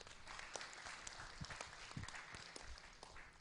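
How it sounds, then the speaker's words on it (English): Moderate applause from a conference audience at a science and technology event, a steady patter of many hands with a few sharper individual claps standing out, fairly quiet and unbroken. "Please give them a warm applause."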